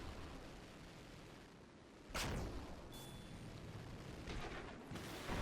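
In a robot combat video game, a howitzer barrage lands as a sudden heavy boom followed by rumbling, with another burst near the end, all fairly faint and distant over a low steady background.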